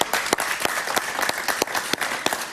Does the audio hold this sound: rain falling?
no